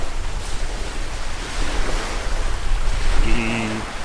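Waves wash onto a campsite beach in Greece with a continuous loud roar of surf, mixed with wind buffeting the microphone, and a brief voice-like tone near the end.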